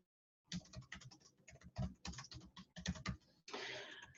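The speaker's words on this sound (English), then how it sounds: "Looks like some folks are typing" Several people type on computer keyboards in a quiet room, a faint, irregular patter of key clicks in short bursts with brief pauses between.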